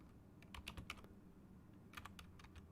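Code is typed on a computer keyboard in short bursts of quick, light key clicks, separated by a pause and heard close up in a quiet room with no talking.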